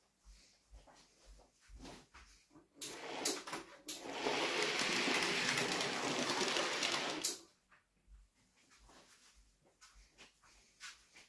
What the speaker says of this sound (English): I'm just going to go move the train ahead of the points